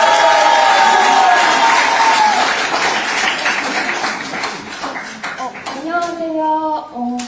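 Applause from a crowd at an outdoor political launch rally, dense clapping that starts strong and slowly fades, with a loudspeaker voice and other voices over it.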